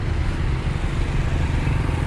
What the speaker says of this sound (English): it's a very busy road